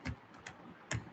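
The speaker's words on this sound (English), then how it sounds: "typing" Three or four soft, separate keystrokes tap on a computer keyboard during spreadsheet work, faint and close, with quiet pauses between presses and no voices.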